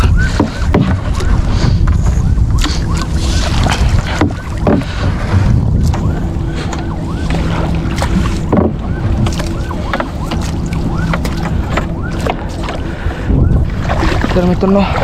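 A small wooden fishing boat is pushed with a pole through shallow water during mullet fishing, with continuous water and hull sounds close by while people talk over it.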